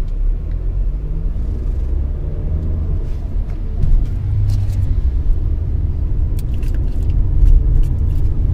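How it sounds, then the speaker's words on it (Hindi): A 2021 Tata Nexon running and driving, heard from inside the cabin as a steady low engine and road rumble with faint clicks and rattles over it, no talk. "जैसे अभी स्टार्ट भी करी चलो गाड़ी,"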